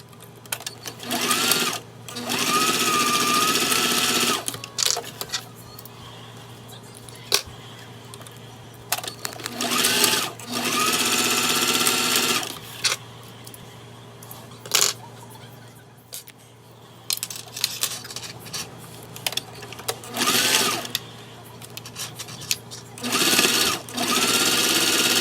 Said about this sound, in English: So let's go ahead and sew our strap closed